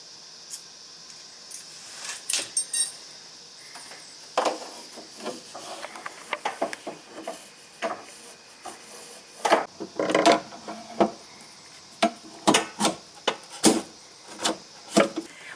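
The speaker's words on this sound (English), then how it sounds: "So you're going to take your screwdriver, your flat screw head, and just pull it up and out like this." A flat screwdriver pries a C-clip off the door lock of a 4th-gen Firebird Trans Am, making scattered sharp metallic clicks and short scrapes, close and fairly quiet, with no talking.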